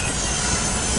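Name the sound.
eastbound freight train passing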